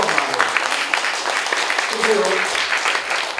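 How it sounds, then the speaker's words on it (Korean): Audience applause at a Korean campaign rally for a candidate: a steady, dense wash of clapping throughout, with a voice speaking briefly over it. "여러분들이 오늘 이런 마음으로 지금 박수를 치는데"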